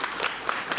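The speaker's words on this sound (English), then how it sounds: "So give yourselves a round of applause," Brief burst of audience applause at a community media organization's annual member meeting, a short steady patter of clapping from a modest crowd.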